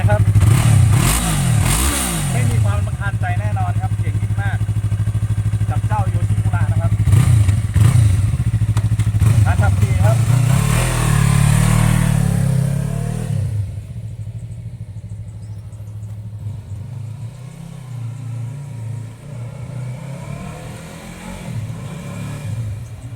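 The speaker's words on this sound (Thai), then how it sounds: "เดี๋ยวมาลองสตาร์ทเครื่องกันดูนะครับเป็นยังไง" A 2017 Yamaha YZF-R3 motorcycle engine fires up and runs with a steady, smooth rumble, rising briefly in revs before settling into a quieter idle.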